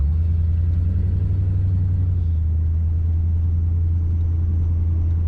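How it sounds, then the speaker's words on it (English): Deep, steady exhaust rumble from a 1956 Ford Meteor Rideau Crown Victoria cruising along, a constant low drone with road noise and no voices. "the rumble at the exhaust is just perfect."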